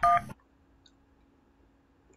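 Short burst of cell phone keypad dialing beeps in a prison escape video game, two stacked tones lasting a third of a second, then near silence with a faint steady hum.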